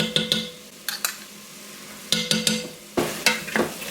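Onion and garlic frying in a pan while being stirred, with a steady soft sizzle under a series of sharp scraping clicks of a utensil against the pan, close and clear with no talking.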